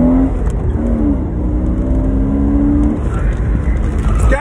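Porsche Boxster accelerating hard at a performance driving school, its engine note climbing in pitch over a few seconds as a loud, close drone, with a voice urging the driver on over the roar.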